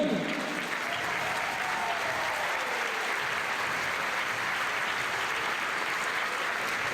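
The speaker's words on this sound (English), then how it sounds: "je vous demande d'applaudir mes médaillés" Steady applause from a crowd at a women's lead climbing World Cup podium ceremony in Valence, a continuous wash of clapping that holds evenly throughout, with a faint voice briefly at the start.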